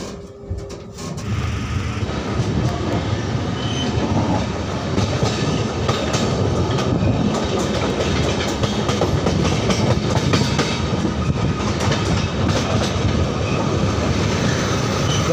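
The Sampoorna Kranti Express rolls along on its New Delhi to Patna run, heard from inside a general class coach as a loud, continuous rumble with rhythmic clickety-clack of the wheels over rail joints.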